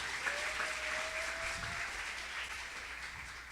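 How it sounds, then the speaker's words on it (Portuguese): Sustained applause from a church congregation during a celebration service, steady dense clapping filling the room for the whole stretch, a faint tone drifting briefly underneath. "Uma salva de palmas para os três."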